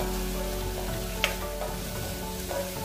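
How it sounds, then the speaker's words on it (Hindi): Spinach sautéing with onions in a pan, a steady close sizzle and fry with a couple of brief stirring clinks, no talk. "अब इसमें ये पालक डाल देते हैं। पालक को हल्का सॉफ्ट कर लेते हैं।"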